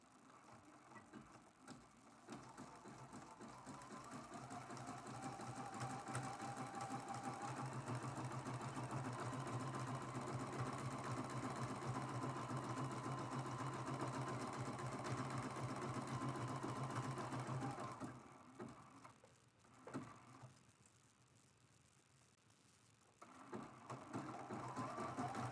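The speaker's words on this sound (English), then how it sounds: "Then I'm just going to go around the whole entire edge with a zigzag stitch." A sewing machine runs a zigzag stitch around the raw edge of a small quilted mug rug, humming in one long, steady, close run for about fifteen seconds before slowing, pausing, then briefly starting again.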